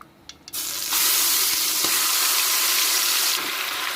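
Sliced onion, green chillies and ginger-garlic paste drop into hot melted ghee for mutton biryani, setting off a loud, close sizzle that surges suddenly after a few soft clinks and keeps crackling steadily.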